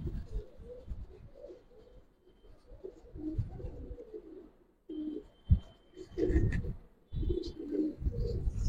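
Giribaz pigeons coo in soft, repeated low bursts with brief pauses between them, close by and fairly quiet, with no voices over them.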